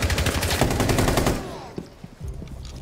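The Capitao's light machine gun in Rainbow Six Siege rattles off a loud, rapid sustained burst for over a second, then cuts out, leaving a few fainter thumps and scattered game sounds.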